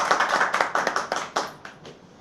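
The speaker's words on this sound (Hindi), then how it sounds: "एक जोरदार तालियों से आप इनका स्वागत कीजिएगा" Audience applause greeting a speaker at a health-products talk, a short burst of moderately loud, fairly sparse clapping that tapers off after about two seconds.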